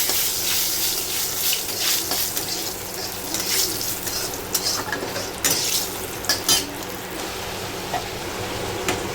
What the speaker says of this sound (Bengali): এটাকে ভালো করে ভাজা ভাজা করে নেবো